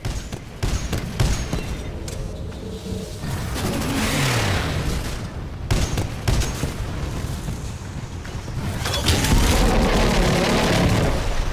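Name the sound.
Titan salvo core firing in video game Titanfall 2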